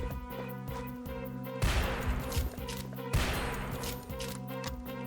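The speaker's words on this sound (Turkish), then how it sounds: "Tamam vurdum. Bir daha vurdum." Two loud gunshots ring out in an indie horror game deer hunt, each a sharp blast with a short noisy tail, about a second and a half apart over a steady droning game soundtrack.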